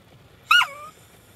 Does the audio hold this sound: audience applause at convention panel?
no